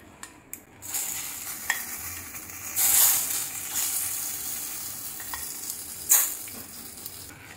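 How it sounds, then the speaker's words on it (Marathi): Dried red chilies dropped into hot oil for a tempering, crackling and sizzling loudly up close with stirring, swelling into a few sharper bursts of spitting. "गरम तेल करून मी त्यात मिरच्या टाकलेल्या आहेत"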